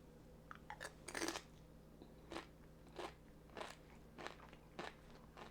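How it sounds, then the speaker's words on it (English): Crunchy bites and chewing of chunky salsa with large onion pieces and cilantro leaves, made in a molcajete; a run of distinct close, loud crunches spaced about a second apart, with no talking. "That crunch has got me closing my eyes."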